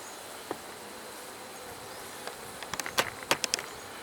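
Honey bees around an open hive frame during requeening give a faint, steady hum with a few sharp buzzes and ticks close by near the end. No one is talking.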